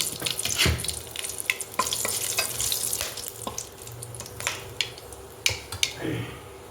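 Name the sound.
bay leaf, cloves and cardamom tempering in hot oil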